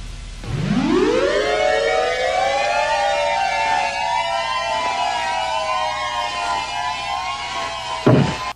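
A wailing electronic tone sweeps upward, then holds a long wavering hum that slowly sags, like a sci-fi spacecraft effect, ending with a sharp dip.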